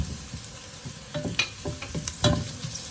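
Garlic and potatoes sautéing in a pan for Kapampangan chicken asado, with a low sizzle and irregular scraping stirs that pick up toward the end, close by with no voices.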